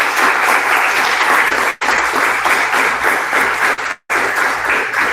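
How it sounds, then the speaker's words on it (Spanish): Applause from a seated audience at a Spanish-language talk on the galactic metallicity gradient in star-forming regions, steady and dense, broken by two brief drops in level. "tengo un aplauso a nuestro compañero"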